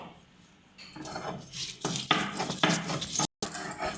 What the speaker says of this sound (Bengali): তো চলো, এটাকে ভালো মতন করে আমরা বেটে নিচ্ছি।